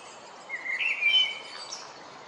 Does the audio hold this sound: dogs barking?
no